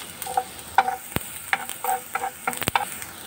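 Vegetables sautéed for pinakbet in a frying pan, with a spatula scraping and clanking against the pan in irregular strokes over a soft sizzle, close and clear, with no talking.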